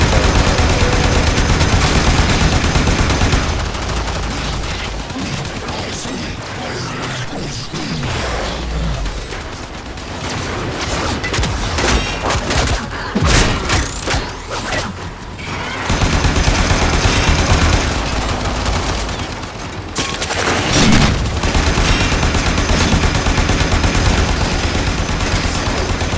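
Sustained automatic gunfire from a Warframe battle as shots are aimed at the hoses on an enemy's back. The firing is loud and dense and continuous, broken by brief pauses and heavier bursts.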